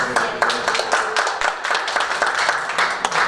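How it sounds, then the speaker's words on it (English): Audience applause at a school board meeting after a unanimous motion passes, a steady patter of many hands clapping throughout with light voices mixed in. "We were just clapping because the night's almost over"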